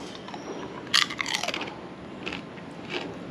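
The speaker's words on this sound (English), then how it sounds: "Sounds crunchy." Biting into salt and pepper Mr. Pop manioc chips, a few close, quiet crunches scattered over a few seconds with faint chewing and no voices.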